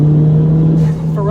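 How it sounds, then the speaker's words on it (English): Big-turbo Ford Fiesta ST engine droning steadily up close, with a short dip and an airy rush like a blow-off valve toward the end, and a voice faintly audible at the finish. "I want the fun car noises."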